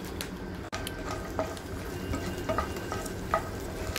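Ingredients frying in a pan for tender coconut (elaneer) payasam give a steady, gentle sizzle with occasional light clinks of a utensil, and no one speaks.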